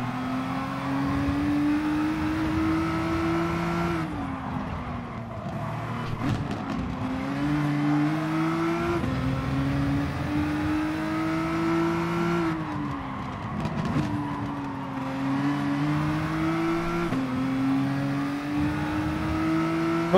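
Nissan GT-R race car engine in the racing game GT Sport, with a loud, continuous howl that climbs and drops repeatedly through gear changes and braking, alongside occasional tire noise.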